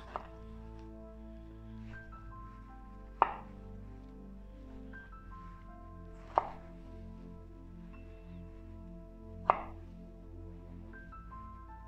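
A knife cuts food into cubes and rounds on a board, making three sharp, separate chops spaced a few seconds apart over a steady tonal background.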